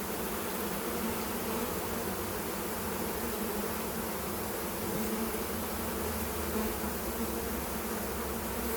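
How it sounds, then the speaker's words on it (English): A large colony of honey bees drones without pause during a full hive inspection with a Flow Hive honey super, the buzzing dense, even and close, with no voices. "there's a lot of bees, which is fantastic"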